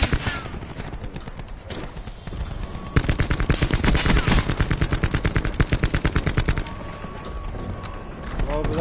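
Gunfire in Call of Duty, a long burst of rapid automatic fire in a steady rhythm, preceded and followed by scattered single shots, with voices talking over it.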